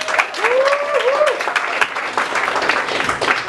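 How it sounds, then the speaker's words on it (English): A comedy club audience claps warmly as a stand-up comedian takes the stage, dense steady applause with a few whoops and cheers rising over it near the start, holding loud throughout. "give a warm round of applause to Mr."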